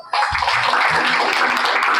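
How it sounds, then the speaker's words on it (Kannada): An audience at a first birthday celebration bursts into loud, sustained clapping in praise of God, with dense applause filling the room and a few voices beneath it. "ಇನ್ನೊಂದ್ಸತಿ ನಾವು ಜೋರಾಗಿ ದೇವ್ರಿಗೆ ಚಪ್ಪಾಳೆ ತಟ್ಟಣ"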